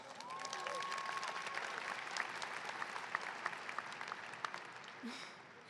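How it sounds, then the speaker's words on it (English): Applause from a crowd of graduating high school students at a graduation ceremony, a dense, steady wash of clapping lasting several seconds before tapering off, with a few whistles and faint voices mixed in. "let's give ourselves a big round of applause"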